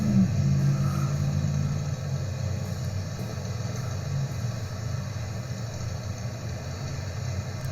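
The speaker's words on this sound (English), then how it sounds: "we can go to maybe some city traffic, and this is some great ambient noise we can add to the background" Steady city traffic ambience of idling and passing road vehicles, a continuous low rumble with engine hum and faint revving, dense and even throughout with no voices.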